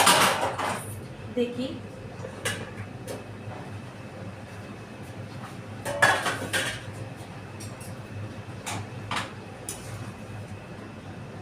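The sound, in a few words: opening the lid of a cooking pot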